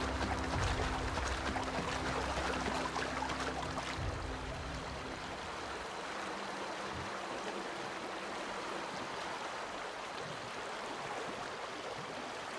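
Steady rushing cascade of a waterfall in The Outer Worlds, a broad continuous wash of falling water that stays constant throughout, slightly fuller at the start, with no voices over it.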